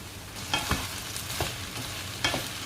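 Washed basmati rice is stirred in a pan with a low, continuous sizzle and a few soft scraping strokes of the spoon, close up and without talk.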